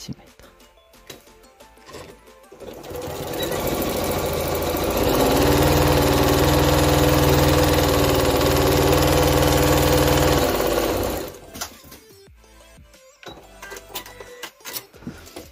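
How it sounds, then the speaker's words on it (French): A sewing machine stitches along the bottom of a fabric pouch, its motor whirring up into a loud, steady run for several seconds before winding down, with quieter handling noises before and after. "Et là, on va coudre tout le long en bas à 1 cm."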